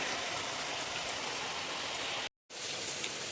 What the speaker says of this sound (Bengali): আমাদের এখানে দেখো প্রচণ্ড বৃষ্টি হচ্ছে